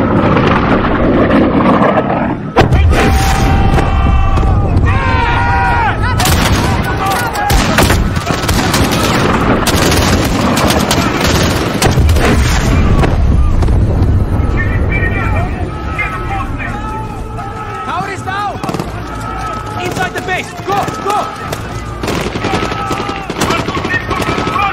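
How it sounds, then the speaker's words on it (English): Gunship cannon fire and heavy weapon bursts in the Call of Duty Modern Warfare video game, loud and near, with booming explosions and rattling gunfire running throughout under shouted voices and battlefield babble. "Elane, fire the cannon"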